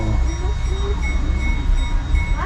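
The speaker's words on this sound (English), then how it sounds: "Train just kicked in gear." A train at the historic village of Metamora, Indiana rumbles low and steady as it begins to move, with faint metallic squeals and hums drifting over the heavy drone.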